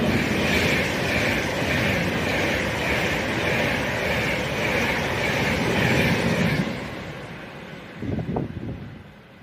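An Avanti class 390 train passes through a station without stopping, a loud sustained rushing roar that fills the first several seconds before fading, followed by a quieter rumble.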